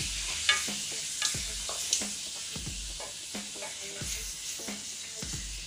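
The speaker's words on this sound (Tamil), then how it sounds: "தக்காளி ஆட் பண்ணிவிட்டு தக்காளி நல்லா ஸ்மாஷ் ஆகிற வரைக்கும் ஃப்ரை பண்ணிக்கலாம்." Onions and tomatoes fry in a pan for a chicken gravy, giving a steady close sizzle with repeated stirring scrapes and light clinks throughout, no talking.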